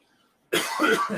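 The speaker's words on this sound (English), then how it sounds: "the marijuana made me cough" After a moment of silence, a single close, loud cough from smoking marijuana breaks out, rough and sustained with a couple of hacking pulses.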